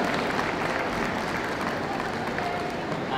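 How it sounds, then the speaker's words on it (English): An audience at a championship dog show's working group judging applauds in a steady, loud, continuous wash of clapping that fills the whole stretch, with faint crowd voices mixed in. "Big round of applause, ladies and gentlemen, to our other shortlisted finalists as they leave the room."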